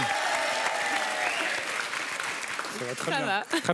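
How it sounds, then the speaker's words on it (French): A French television studio audience applauds a couple arriving on a dating game show, a dense wash of clapping that fades as a host's voice rises over it near the end. "et ben on vous applaudit tous les deux"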